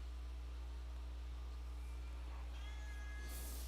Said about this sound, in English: Oh, I hear a cat.